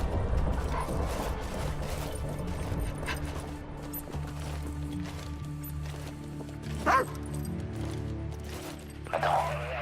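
A dog in the Call of Duty Ghosts single-player campaign barks and yips in short bursts over a busy wash of in-game ambience and a low rumble.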